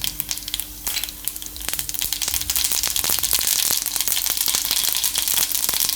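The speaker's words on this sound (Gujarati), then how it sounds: "એમાં આપણે રાઈ નાખીશું પહેલાં." Mustard seeds crackle and pop in hot oil in a kadai, a dense run of sharp sputtering bursts over steady frying hiss, building louder and busier through the clip with no talk.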